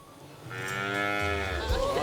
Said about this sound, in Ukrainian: в мене є бичок